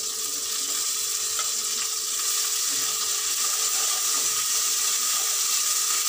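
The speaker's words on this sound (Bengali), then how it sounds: "প্রথমে আমি রসুন বাটাটা দিয়ে দিলাম।" Garlic paste frying in a hot pan, a steady loud sizzle with faint stirring that continues throughout.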